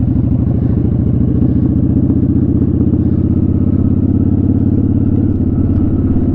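A motorcycle cruises in second gear around a parking lot with a steady, loud, close engine drone and a constant rumbling throb.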